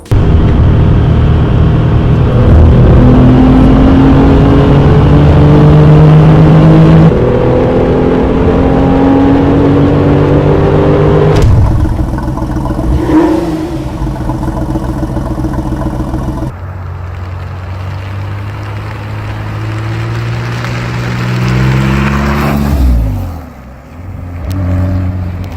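An air-cooled Porsche 911 Carrera 993 in Need for Speed Porsche Unleashed revs loudly and close, the engine note climbing and dropping through several gear changes, with a brief settle toward idle before pulling hard again.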